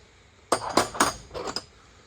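Thin old V-style wrenches clink together in a vintage Craftsman toolbox, with a quick burst of four or five close metallic clinks followed by quiet.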